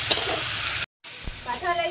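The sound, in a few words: sautéing fish curry in a pan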